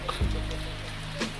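Rain falls steadily through the morning, a soft continuous patter of drops on surfaces with a faint low knock partway through.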